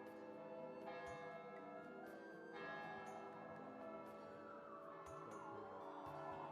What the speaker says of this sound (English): Anyone else hear the bells?